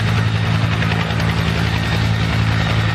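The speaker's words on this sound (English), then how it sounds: "here you can see the helicopters" Helicopters fly over Washington, D.C., with a steady, loud rotor and engine drone and strong low thumping that holds throughout without letup.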